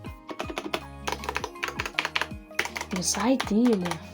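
Fingers type quickly on a new, not entirely quiet computer keyboard, making a close run of crisp clacks and thocks, with a voice briefly joining near the end.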